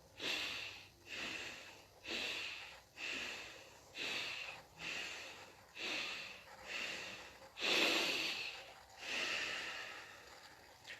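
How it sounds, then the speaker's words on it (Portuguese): Breathing exercise made of four fuller breaths and one maximal breath, heard as a run of close, airy, evenly spaced inhale-exhale cycles, one of them noticeably longer and stronger. "eu fiz 4 respirações respirando um pouco mais que o normal e uma respirando com toda a minha capacidade"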